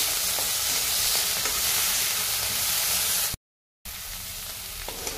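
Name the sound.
small shrimp frying in pan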